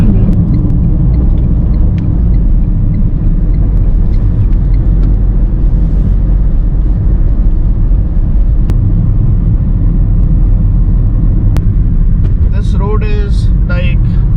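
Car cruising on the Yamuna Expressway toll road, a steady loud low rumble of engine and tyre noise from inside the cabin, continuous throughout, with brief faint voices near the end.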